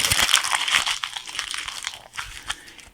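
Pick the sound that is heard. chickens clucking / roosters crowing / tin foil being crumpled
tin foil being crumpled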